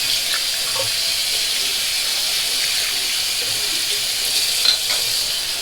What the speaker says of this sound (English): Let's put some cold water on here